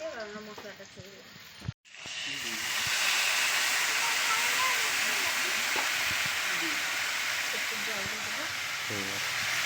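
Spice paste hits hot oil with fried potatoes and bursts into loud, steady sizzling that holds close and continuous after a brief pause, while people talk over it.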